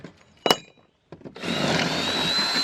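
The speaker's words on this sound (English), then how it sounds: "I'm going to drill right through the center hole." A power drill with a 1/4 inch bit bores through a rod holder base plate, starting with a sharp click and a brief whir, then settling into a loud, steady grinding whine.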